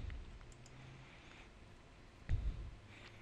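A mouse button clicks while a web page link is opened during a firmware update for a Philips DVT digital voice tracer, with a few faint clicks, then one louder click around the middle, in a quiet room.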